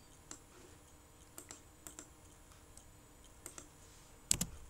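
Sparse clicks of a computer keyboard as someone types an IP address into Cisco Packet Tracer, quiet and close, with a sharper burst of keystrokes near the end.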